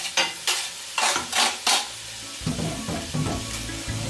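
Garlic dropped into a hot pan with fresh scallion nearby: a few bright bursts of sizzling and stirring scrapes in quick succession, then lower clattering pan sounds, close and loud with no talk.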